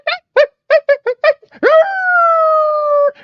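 A human voice imitates coyotes' high-pitched chittering: a run of six short, yipping bursts followed by a longer drawn-out howl-like wail, close and loud against silence.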